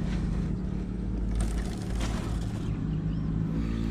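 A motorcycle engine running with an odd, uneven sound after its rear wheel locked up, a steady close drone with low rumbling tones and a brief rougher surge midway.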